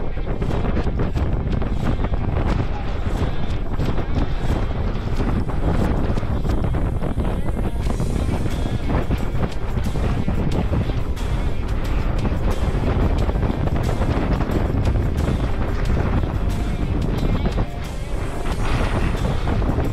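Ausom L2 Max electric scooter riding on asphalt, with a steady broadband rush of wind buffeting the microphone and road roar throughout, loud and continuous with no talking.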